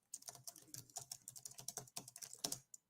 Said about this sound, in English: Can you hear the typing? Can you hear that?